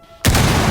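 Ash's breaching round in the Rainbow Six Siege video game, a sudden loud explosive blast that erupts after a quiet moment and sustains a dense roar to the end.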